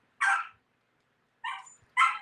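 A dog barks outdoors three times: one sharp bark, a pause, then two quick barks, fairly close and clear against a quiet background.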